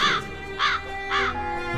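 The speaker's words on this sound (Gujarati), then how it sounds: "ખાતા ખાતા કાગડો બોલે છે" A crow caws three times at an even pace, each harsh call clear and fairly close, with little else around it.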